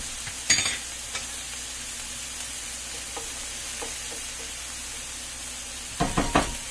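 Food fries in a pan with a steady soft sizzle, while a utensil scrapes and knocks against it in short bursts near the start and again toward the end.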